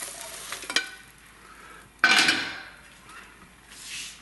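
A cooking pan is tilted and handled over a plate, with a few light metallic knocks and scrapes, one sharper clatter and a soft sizzling hiss underneath, close by, with no voices.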